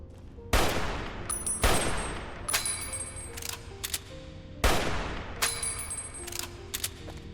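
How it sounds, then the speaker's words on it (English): Single shots from an M1 Garand rifle in Fallout New Vegas, three loud sharp cracks spaced a few seconds apart, each trailing into echoing tails with faint mechanical clinks between them. "The M1 Grand, guys. Everyone's favorite single-fire rifle."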